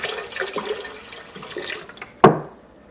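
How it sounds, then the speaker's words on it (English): Water poured into a pot on the stove for making muscadine wine: a soft running splash lasting a couple of seconds, ending with a sharp clunk of the vessel, no talking. "So I'm going to pour in roughly half of our water."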